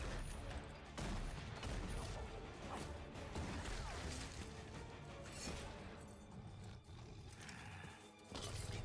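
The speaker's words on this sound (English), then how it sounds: "Throw shot 3 times through a double barrel shotgun." Dense, chaotic game combat in League of Legends, with the champion Graves firing a double-barrel shotgun among crashes, impacts and roars, loud and continuous throughout.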